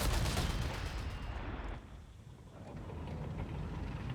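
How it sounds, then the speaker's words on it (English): Afrika Korps artillery in Company of Heroes 3, a sustained barrage of heavy booming blasts and rumbling explosions that stays loud and dense throughout, easing briefly midway before building again. "It does last quite a long time, that Afrika Korps artillery"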